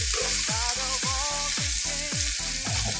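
Crushed tomatoes sizzle steadily in a hot frying pan as the base for squid adobo with string beans, a constant close hiss with a repeating pulse of faint tonal chirps running through it, and no talk.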